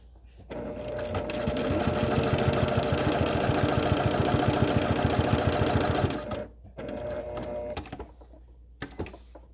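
A sewing machine stitches a fabric face mask in a rapid, steady mechanical whir for about six seconds, then stops, followed by a short burst of stitching and faint handling noise.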